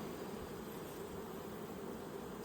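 Honey bees buzz continuously around an open hive during an inspection, a faint, even drone with no pauses, heard close and alone.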